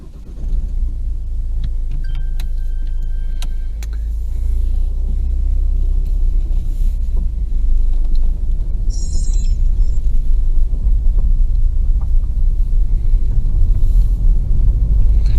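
A Ford Focus Mk3 engine rumbles low and steady from inside the car as it drives along, with faint rattles and a brief high squeak partway through.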